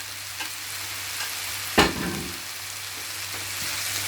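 Leftover chicken, prawns and noodles are stir-fried in a pan with a steady sizzle, broken by one sharp clatter of the utensil partway through as the food is stirred.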